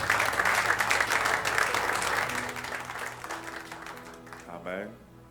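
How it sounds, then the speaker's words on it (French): A church congregation breaks into loud, sustained applause, dense clapping that gradually thins and fades, with a voice or music tones sounding beneath it toward the end. "Est-ce qu'on peut acclamer pour Jésus?"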